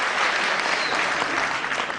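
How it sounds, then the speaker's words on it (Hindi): Sustained audience applause at a Hindi-Urdu poetry gathering, dense steady clapping filling the whole stretch without a break and with no talk over it. "मैं चाहता हूं एक बार जोरदार तालियां आप इनके शेरों के लिए बजा दें।"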